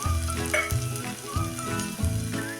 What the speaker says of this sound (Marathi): आणि अर्धा चमचा जिरे दोन्ही चांगलं तडतडू द्या